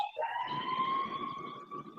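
A fire engine siren, likely a ladder truck, wails in a steady high tone that slowly drifts lower as it passes at a moderate distance.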